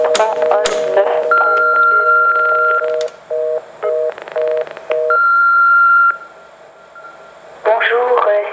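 A telephone number dialed on a keypad, each press giving a steady DTMF dual tone, a run of separate beeps of varying length with short gaps, loud and close, no voices over them.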